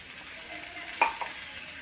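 Tomatoes fry and soften in a pan for a dhaba-style shev bhaji, giving a low, even sizzle with one brief scrape of stirring partway through.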